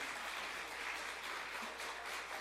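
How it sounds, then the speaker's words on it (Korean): Church congregation applauding together after an infant baptism at a Sunday children's service, a steady, even wash of clapping from many hands, moderately distant and with no talk over it. "박수해 주시기 바랍니다."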